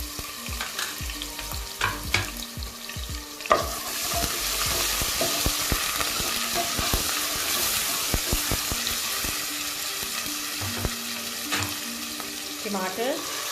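Ginger garlic paste hitting browned onions in a pot for a mixed vegetable curry, a continuous sizzle broken by frequent scraping and clattering stir strokes, heard up close with a sharp knock partway through.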